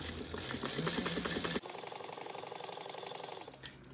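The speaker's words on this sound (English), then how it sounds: "we're going to stitch this down at a 3/8 inch seam allowance" A sewing machine stitches thin lining fabric for a Brentwood bag at a 3/8 inch seam allowance. It gives a steady, close mechanical whir with fast rhythmic needle ticks, and the motor's texture shifts about midway through.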